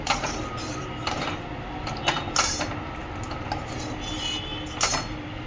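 A metal spoon stirs lemon juice into sugar syrup for jalebi, giving close, irregular clinks and scrapes against the pot in small bursts over a quiet kitchen background.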